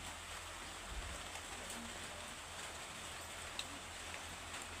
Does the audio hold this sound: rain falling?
yes